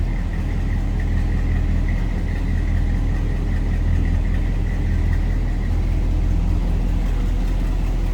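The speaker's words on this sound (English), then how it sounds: "Slip around to the back and hear that dual exhaust." A 1956 Ford F100 pickup's V8 runs steadily through its dual exhaust, a close, constant low rumbling idle with no other sounds over it.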